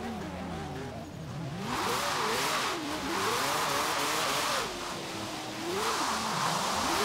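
Cars drift around a parking lot in Forza Horizon 3, engines revving and wailing up and down in sweeping pitch bends while tires hiss and squeal in loud bursts, with no talk.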